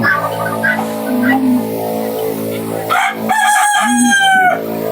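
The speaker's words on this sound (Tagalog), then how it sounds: "Manok lang dito sa loob. Dami pala manok dito ni." Chickens cluck continuously close by while a rooster lets out a loud, drawn-out crow near the end, with the flock's chatter carrying on underneath.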